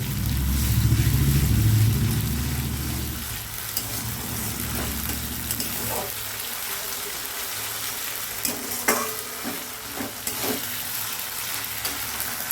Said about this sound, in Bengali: এবার এইটাকে ভালো করে পেঁয়াজের সাথে ভেজে নেব বাটাটাকে।